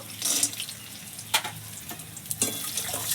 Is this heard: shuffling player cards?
no